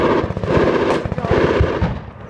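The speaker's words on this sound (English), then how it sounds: "I'll just shoot these two plates" Rapid pistol shots ring out in a quick burst at steel plates during a speed-shooting drill in the desert, the sharp cracks coming close and loud with steady cadence and no talk.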